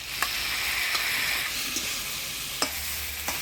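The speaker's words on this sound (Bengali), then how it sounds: "কচু আলুটা মশলা দিয়ে ভালোভাবে কষিয়ে নিলাম।" Taro and potatoes sautéing with spices in hot oil for a Bengali fish curry, a steady close sizzle broken by a few sharp scrapes of stirring, with no voices.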